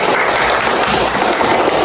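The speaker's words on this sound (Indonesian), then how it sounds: "Mari kita beri tepuk tangan" A school class claps together during a Catholic religion lesson, dense, loud and continuous applause filling the room without a break.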